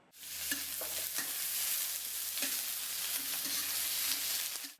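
Tofu and chopped eggplant fry in a wok, with a continuous hiss of sizzling oil and occasional spatula scrapes, close and steady throughout.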